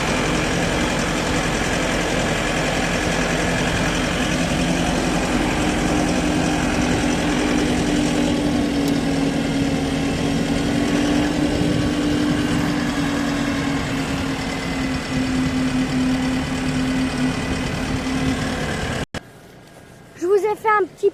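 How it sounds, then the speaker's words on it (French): A tractor engine runs steadily while plowing in a vineyard, a loud continuous rumbling drone that cuts off abruptly near the end, leaving brief faint rustling. "je vais vous montrer comment il laboure le tracteur"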